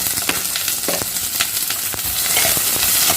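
Curry leaves and sliced onion frying in a pan, a loud close crackling sizzle with frequent sharp pops and spits that thickens toward the end, no speech.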